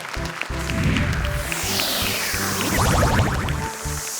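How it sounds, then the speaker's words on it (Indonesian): Studio audience applause for Humaira, a contestant on the Indonesian Quran-memorization TV competition Hafiz Indonesia 2019. Steady, loud clapping is blended with a musical backing for about four seconds. "Boleh tepuk tangan untuk Humaira."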